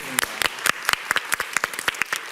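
Scattered applause from a studio audience on a Korean talk show: a few crisp, close claps in an uneven rhythm, with no voices over them.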